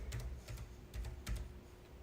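Typing a username on a computer keyboard, heard as faint, close key taps in short clusters of a few strokes with brief pauses between them, with no voices.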